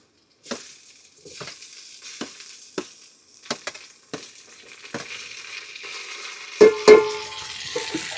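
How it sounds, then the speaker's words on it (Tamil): Chopped tomatoes hit a hot pan of fried onions and sizzle steadily while a spoon stirs them, giving sharp periodic scrapes and clinks against the pan at close range, with no talking. "தக்காளி போட்டுங்க லைட்டாக ஒரு கிளறி விட்டு மஞ்சத்தூள் உப்பு போட்டுக்கலாம்."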